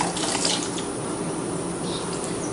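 Fuel drains from a lawn mower tank through a detached fuel line, making a faint, steady trickle that runs on without pause.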